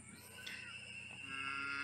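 Cattle low on a green pasture in a rural area where many people raise cows, a faint moo rising over a steady outdoor background for a short moment, with no voices.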